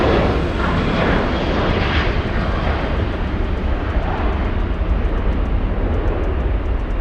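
A Southwest Airlines jet moves at LAX with a loud, continuous engine roar and rushing noise. The sound stays steady and close throughout, with no voices.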